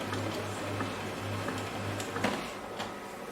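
A printer rebooting after being switched back on produces a faint, rhythmic mechanical hum with soft intermittent ticks and clicks, heard alone in a quiet room.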